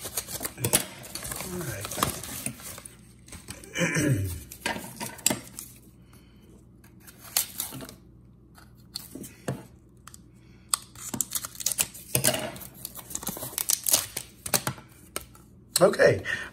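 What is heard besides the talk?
ripping open a mail package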